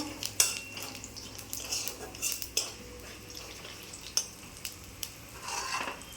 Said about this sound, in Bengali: পাঁচ ফোড়ন দিয়েছি পাঁচ ফোড়নটা ভেজে নেবো একটু